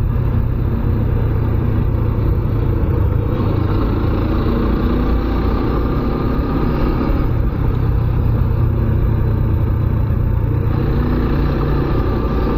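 A Suzuki Gixxer motorcycle rides along a rural road toward Nikli Haor, its loud, steady engine drone and rumble mixed with wind noise, continuous and close throughout, with no talking.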